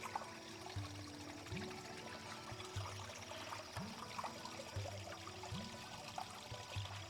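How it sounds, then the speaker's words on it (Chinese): A clear mountain spring stream in a quiet valley near an abandoned Hunan village flows and trickles steadily at a moderate distance, with a soft continuous burble and no one speaking. "潺潺的流水声。"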